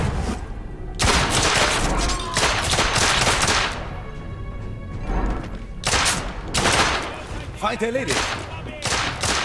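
Hip-fire gunshots from The Order 1886 on PS4 ring out in several loud, dense bursts separated by short pauses, with a brief in-game voice heard between the volleys.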